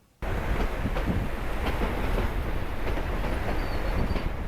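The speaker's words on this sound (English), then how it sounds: "I'll be riding in an open-air gondola being pulled by a steam engine" Riding in an open-air gondola behind a steam engine on the historic Durango to Silverton narrow gauge railroad, a loud continuous roar of rolling wheels and rattling cars with faint rhythmic clicks, no talk.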